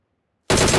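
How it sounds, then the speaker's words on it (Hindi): Gunfire from the PUBG Mobile video game bursts in suddenly after a moment of silence, a loud, dense rattle of rapid shots that continues to the end. "मनु गोलियां लग रही है"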